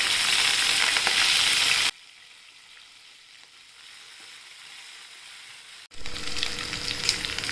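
Green chillies and curry leaves sizzle loudly in hot oil for masala idli, a dense frying hiss that drops to a quiet low crackle midway, then surges back up strongly near the end.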